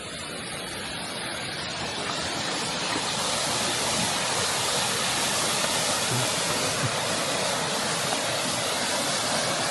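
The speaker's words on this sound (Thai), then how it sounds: "น้ำตกบ่าหลวง" Rushing water from Ba Luang waterfall makes a constant broadband roar that holds steady and loud throughout, slightly swelling after the first couple of seconds.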